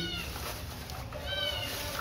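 A house cat meows at feeding time, several drawn-out, close meows running one after another over a quiet room background.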